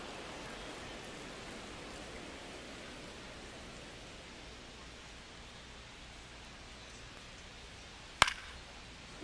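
Steady rain falling in a baseball video game simulation, a continuous even hiss throughout with one sharp brief crack near the end.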